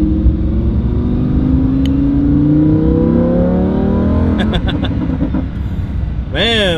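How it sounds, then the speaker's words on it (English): A Lamborghini Huracan engine climbs through its revs with a rising, tonal exhaust note under a steady road rumble, then drops back, with a brief crackle near the end and voices faintly present. "Listen to that exhaust note."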